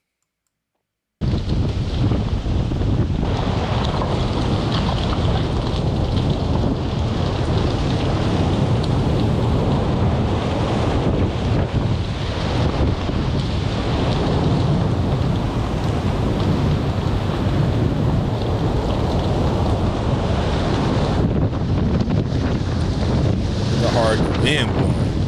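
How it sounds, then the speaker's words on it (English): Strong wind blows steadily through a wide street in a Southern California neighborhood during a wildfire firestorm, a loud continuous roar with buffeting gusts hitting the microphone throughout. "Wind blowing."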